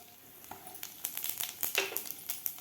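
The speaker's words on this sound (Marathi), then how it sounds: "जिरेसुद्धा व्यवस्थित फ्राय झालेले आहेत" Cumin seeds fry in hot oil after mustard seeds have popped, giving a faint, crackling sizzle with scattered small pops and spits throughout; no talking.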